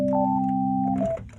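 Default patch of the Yoshimi (ZynAddSubFx) software synthesizer after a full settings reset: one steady, clean sustained tone with a bright overtone, holding about a second before cutting off, loud and alone without talk.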